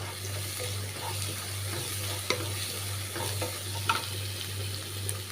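Curry leaves fry in a pan while being stirred for narthangai sadham, a faint continuous sizzle broken by a few soft scrapes and clicks of the spoon.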